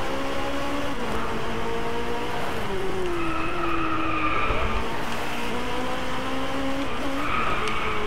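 Tires of a McLaren 570S squeal and skid through an oversteer slide in the Driveclub racing game, a loud sustained screech wavering in pitch over the engine drone, with no talk.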